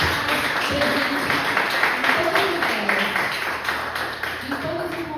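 A church congregation claps together in a steady, moderately loud wash of applause that continues throughout, with voices speaking over it.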